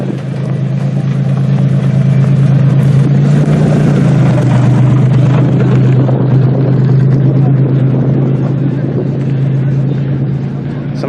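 Demolition derby cars, including a Ford Taurus, driving at a derby event in New Alexandria, their engines a loud, continuous, close rumble with people talking over it.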